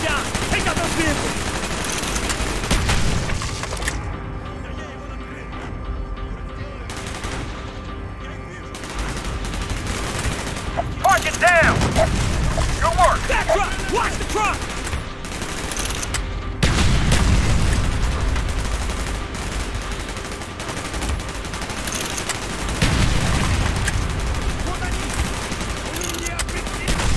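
Heavy gunfire in Call of Duty: Black Ops roars continuously, with rapid automatic bursts and deep booms layered under shouted voices.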